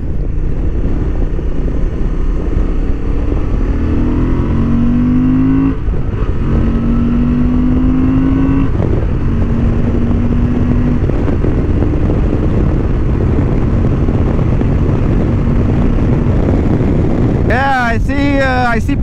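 A Honda XL750 Transalp 2023 motorcycle accelerating hard along a racing track straight, its engine tone climbing through gears beneath heavy wind rush, with a rider talking over it.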